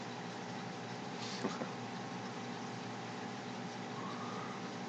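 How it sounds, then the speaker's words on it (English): A 4-cylinder car engine idles steadily up close, a smooth continuous drone with a brief faint knock partway through. "It's got a very unique sound, but it's just so not what you'd expect from a 4-cylinder"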